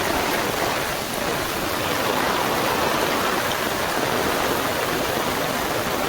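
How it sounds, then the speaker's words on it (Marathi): Heavy monsoon rain pours steadily throughout, a dense, continuous roar like rushing water with no pauses and no voices. "डेंजर पाऊस पडता"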